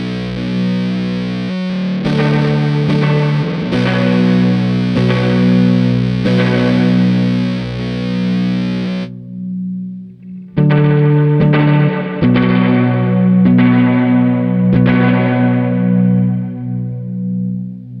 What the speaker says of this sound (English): we have a distortion, cattail from Fuzz. On the other side, we have reverberation machine from Death by Audio